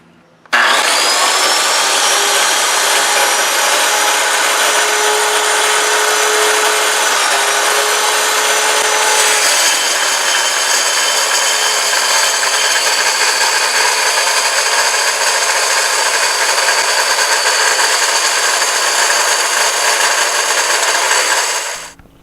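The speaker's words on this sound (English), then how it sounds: "So this first cut was really difficult. I tried going all the way down on the plunge, and I think it was too much for the saw." A Grizzly track saw whines steadily through a deep plunge cut in wood, a loud, continuous high-pitched blade roar that holds for about twenty seconds under strain before cutting off abruptly.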